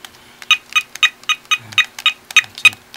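A house phone is dialed as a quick run of about ten short, evenly spaced keypad tones, each a crisp beep. The tones sound close and clear over a quiet room.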